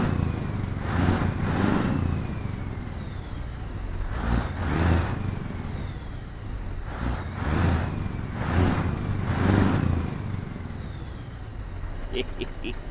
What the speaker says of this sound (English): so I love it when you get back, really hear the exhaust.